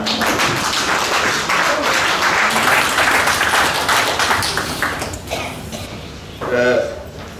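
A church congregation at a Sunday service claps together in a busy, rhythmic patter of hands that gradually thins out, followed by a brief voice speaking near the end.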